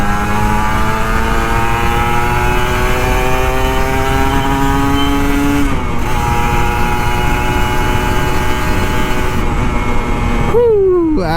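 An older Kawasaki Ninja RR 150 two-stroke motorcycle engine revs loud and close, its pitch climbing steadily through the gears with a brief drop and a sharp rise near the end.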